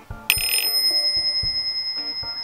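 A bicycle bell rings with a sharp, bright strike, then its metallic tone keeps ringing and slowly fades over a soft, low background.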